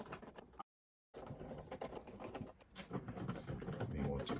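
Bolts on a solar inverter tightened crosswise by hand, a busy run of small ratcheting clicks and metallic fiddling close by, broken by a brief silent gap partway through.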